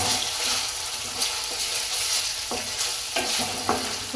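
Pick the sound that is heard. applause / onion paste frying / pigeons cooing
onion paste frying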